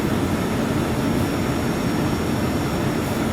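Steady, continuous engine drone of an Embraer airliner in the FSX flight simulator, a dense low rumble with broadband hiss holding level throughout, with no voices.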